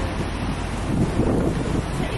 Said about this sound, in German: Der Wind bläst leider ununterbrochen weiter.